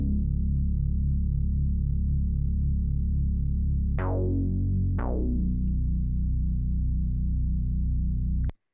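A synthesizer bass, using notes from a track, holds a thick, buzzy low tone that is steady and close, with two sharp retriggered notes partway through and an abrupt stop.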